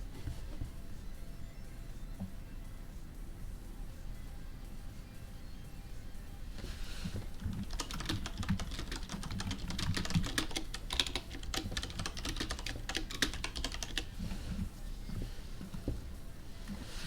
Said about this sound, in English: you do have a loud keyboard